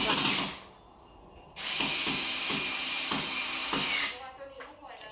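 A power drill bores holes in a wall while an air conditioner is installed in a room, whining loudly in two long, steady bursts with brief thuds between them, close and harsh, followed by quieter clattering afterward.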